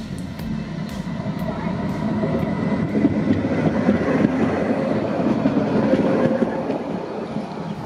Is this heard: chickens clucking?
no